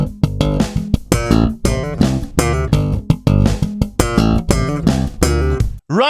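Stomp-style slap bass line at full speed: rapid, tightly spaced percussive plucks and popped notes in a driving rhythm, close and loud, solo with no speech, ending in a brief cutoff.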